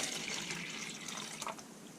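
Water pours into a dye mix in a brief, steady, fairly quiet trickling splash.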